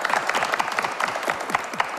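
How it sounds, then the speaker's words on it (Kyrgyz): A brief burst of audience applause for a contestant on a reality dating show, crisp scattered hand claps close and lively, lasting only a couple of seconds. "Кол чаап коелу анда Мунарбек мырзага."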